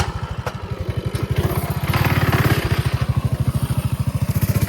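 A Coleman mini bike's small engine runs close by, a rapid, even putter with a brief rise in revs midway, loud and unbroken throughout.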